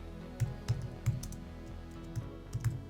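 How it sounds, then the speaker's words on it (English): Keys tapped on a computer keyboard while entering a callout title in editing software, a handful of soft, irregularly spaced clicks over low room hum, close and quiet. "But I'm going to type here and just say"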